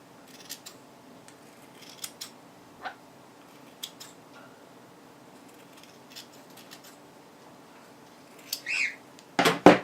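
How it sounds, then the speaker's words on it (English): Scissors snip through the excess fabric seam allowance of a sewn betta fish plush: sparse, quiet snips early on, then a louder, tighter cluster of cuts close by at the end. "So now I'm just going to clip off my excess seam allowance."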